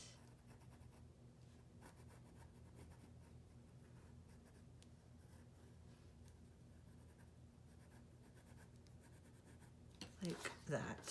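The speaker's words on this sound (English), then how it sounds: "I'm going to come in with my pencil and just do a little bit of shading" A pencil shades lightly across paper in steady, soft scratchy strokes, close and quiet throughout, with a few brisker strokes near the end.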